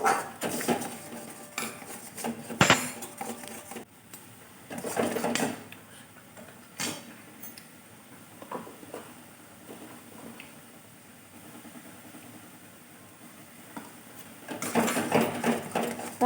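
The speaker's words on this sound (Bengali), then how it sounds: "এবার ভালো করে নেড়ে কষিয়ে নিতে হবে এবং একটু শুকনো শুকনো করে নিতে হবে।" A utensil stirs and scrapes spiced food in a pan as it cooks down until fairly dry. Light clinks and scraping rise and fall over a steady low background, with no voices.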